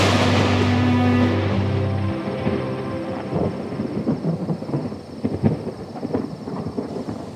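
Deep rolling thunder rumbles loudly before rain, fading after a couple of seconds into scattered crackles and patters of drops striking surfaces.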